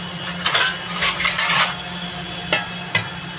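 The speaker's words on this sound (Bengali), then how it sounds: "এবার বন্ধুরা আমি ঢাকা দিয়ে দেবো" A lid set onto a clay pot of steamed crab gives a few short metallic clinks and clatters, a cluster near the start and two isolated knocks later, close and fairly clear.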